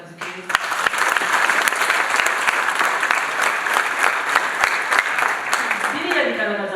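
Sustained applause from a crowd of youth volunteers at a training session in Gishali, steady and dense across the whole stretch with sharp individual claps standing out, fading slightly at the end.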